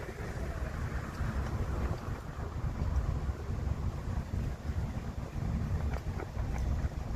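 Strong wind roars steadily against the microphone during a storm chase in central Nebraska, a continuous low buffeting rumble with no talk.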